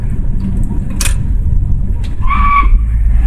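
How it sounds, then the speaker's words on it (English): A 1965 Ford Mustang skids as its rear brakes lock up and the back end kicks out, a short tire squeal over a loud, rumbling engine and road noise, close and heavy throughout. "It's about some locking up rear brakes. That was kind of cute. Just kind of kicked the back end out on me there when I hit the brakes."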